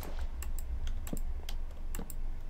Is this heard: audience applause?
no